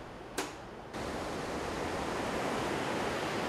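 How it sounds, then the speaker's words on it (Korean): Seawater rushing in through an opened sluice gate of the Sihwa seawall in Korea, a dense, loud, continuous roar that surges in after a brief sharp burst and holds steady. "문을 열기 시작하면 엄청난 속도로 바닷물이 들어온다."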